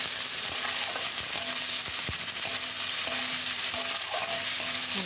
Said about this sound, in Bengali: সুন্দর করে একটু ভাজাভাজি করে নেব।